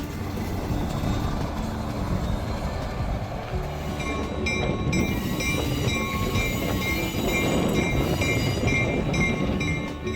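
A train in East Florida rolls steadily along the rails toward Lake Placid with a continuous rumble and rattle of the cars, loud and close, with no voices.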